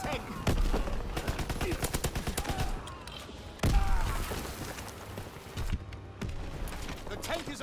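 Call of Duty WWII battle gunfire near a tank: rapid automatic bursts and single shots rattle almost continuously, with heavy thumps and a few louder blasts amid dense combat noise.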